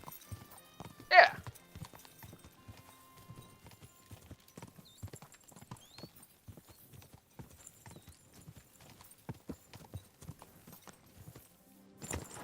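Horse hooves clip-clop steadily through a video game scene, a brisk rhythmic stream of light knocks with a brief whinny near the start and faint talk in the background.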